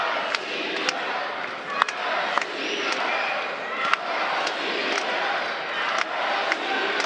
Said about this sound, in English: Crowd is chanting in support of the Russian.